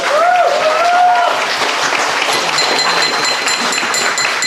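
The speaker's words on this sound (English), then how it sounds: "Come on, people, give them a round of applause." Audience at a wedding reception applauding, a short burst of clapping that is steady and moderately loud, with a whistle near the start.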